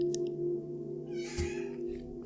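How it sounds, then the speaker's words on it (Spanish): A cat's meow carries a familiar, drawn-out tone that sounds moderately distant, followed by a faint shorter call, with no talking. "un maullido familiar."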